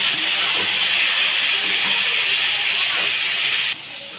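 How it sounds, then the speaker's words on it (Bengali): Pieces of pointed gourd sizzle in hot oil in a wok, a loud, steady hiss that holds evenly and then drops a little in level near the end. "পটলগুলো ভালো করে ভেজে নিতে হবে।"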